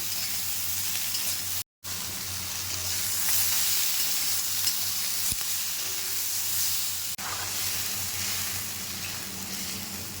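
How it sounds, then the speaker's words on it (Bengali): Potatoes and ridge gourd sauté in a hot pan with green chilli, salt, turmeric and chilli powder, giving a loud, continuous sizzle and hiss with occasional stirring scrapes, broken only by one brief dropout, and no speech. "কাঁচা লঙ্কা একটু আলু দিয়ে দিয়ে লবণ হলুদ আর একটু লঙ্কা গুঁড়ো দিয়ে এটাকে কষিয়ে নেবো"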